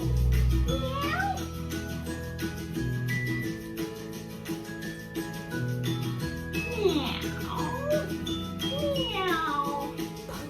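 Children's voices imitate cats with repeated playful meows in a classroom game. The meows rise and fall over steady background chatter and bustle, with several overlapping calls toward the end.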